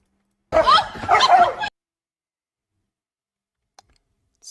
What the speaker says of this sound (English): It's not funny scaring a dog like that.